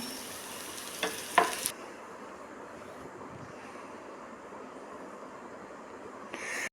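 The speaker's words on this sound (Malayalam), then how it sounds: "ഞാനിവിടെ ഒരു പിടി ചെറിയ ഉള്ളി ചെറുതായിട്ട് അരിഞ്ഞത് വട്ടത്തിൽ അരിഞ്ഞത് ഇട്ട് കൊടുത്തിട്ടുണ്ട് ഇത് നമുക്ക് നന്നായിട്ടൊന്ന് മൂപ്പിച്ചെടുക്കണം" Thinly sliced small shallots, cut into rounds, frying in oil: a soft steady sizzle with brief stirring clatters near the start, then an even low crackle throughout.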